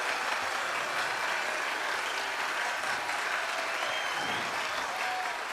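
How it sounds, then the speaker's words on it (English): Loud, sustained applause from a television talent-show audience at a Ghanaian cultural celebration, dense crowd clapping with no break across the whole stretch. "can you clap for her?"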